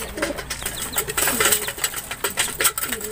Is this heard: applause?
no